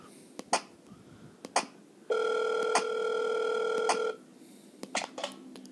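A phone in the video game Five Nights at Wario's 3 rings once in a single sustained electronic tone lasting about two seconds, framed by scattered clicks and soft thumps before and after.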